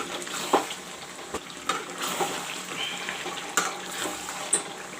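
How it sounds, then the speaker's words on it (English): Mutton and masala fry in a pan, giving a soft, continuous sizzle with scattered sharp crackles and pops; no one speaks. "You can see how nicely the masala is frying with the mutton."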